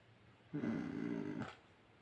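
A dog in a Minecraft game gives one short growling, snore-like rumble lasting under a second, fairly close and alone against quiet background.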